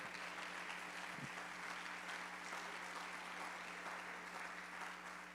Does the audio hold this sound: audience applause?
yes